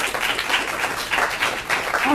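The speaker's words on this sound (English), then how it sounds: "let's just give one round of applause for the great work at BLUE1647" Audience applause at a BLUE1647 Minority Business Development Agency event, a steady wash of clapping that holds for the whole stretch, moderately loud and continuous.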